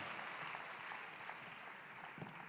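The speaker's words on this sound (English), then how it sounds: "Let's clap our hands and appreciate this great man." Audience applause at a youth conference morning session, a continuous crowd of clapping hands, steady and quiet, with no talk over it.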